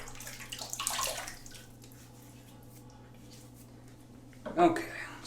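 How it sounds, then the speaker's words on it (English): Water splashes at a sink as a face is wetted before shaving, a brief splash near the start and another louder one near the end, with quieter trickling between. "So we're going to wet the face and we're going to get started."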